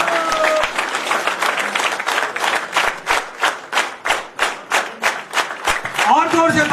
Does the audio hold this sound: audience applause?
yes